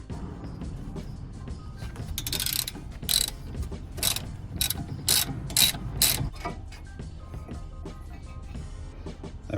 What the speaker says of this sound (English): I'll just get the socket on there and get them out.